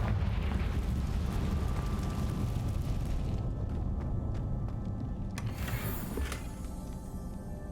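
The Confringo fire spell explodes in Hogwarts Legacy with a heavy rumbling blast that fades into a lingering roar, followed by a sharp crackling burst near the end.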